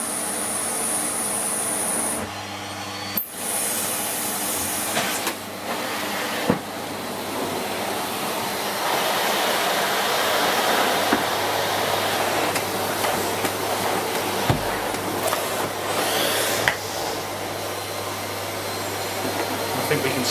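A Siemens Z6.0 Power 2500W cylinder bagged vacuum cleaner runs loud and steady indoors, its airy roar shifting as the head moves over floors, with a few clunks and brief dips, and someone speaks faintly beneath it.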